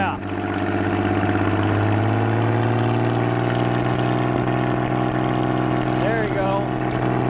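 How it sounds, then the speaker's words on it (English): On a trailer and fed by a garden hose, the engine of a 1946 Century Sea Maid wooden boat idles loud and steady, with a deep, even rumble close by. A voice speaks briefly near the end. "Let her idle. This thing idles like a champ."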